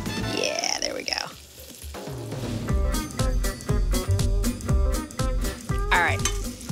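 Turkey cutlets frying in vegetable oil in a hot pan, sizzling close up alongside clinks and scrapes of cookware, with someone talking over it.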